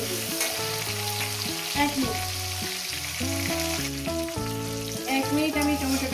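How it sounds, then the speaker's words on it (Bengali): Tomato fries in a pan with a bright, continuous sizzle, while a low tonal background hum and a few soft stirring sounds run underneath. "টমেটোটাকে দিয়ে 1 মিনিট আমি একটু ভেজে নেব"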